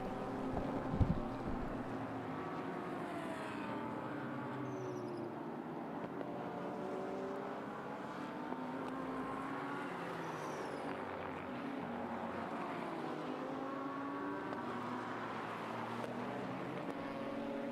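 GT race cars, including GT4 class cars, lap the Sugo circuit in Japan with a steady, continuous engine drone that rises and falls as cars pass at mid distance, layered with wind noise and no talking.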